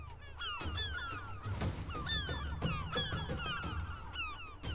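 Many gulls call at once from a crowded nesting colony, with repeated squawks and cries overlapping near and far, and a low fluttering rumble of flapping wings beneath, continuous and busy throughout.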